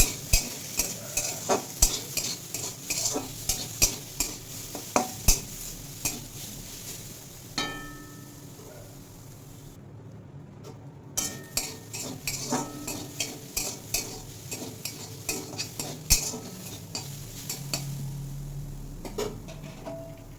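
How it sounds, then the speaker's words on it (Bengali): Grated coconut dry-roasting in a hot, dry wok, with steady scraping and stirring strokes of a spatula and a faint sizzle, close and continuous throughout with a brief quieter pause midway. "শুকনো কড়াইতে নারকেলটা একটু ভেজে নেবো"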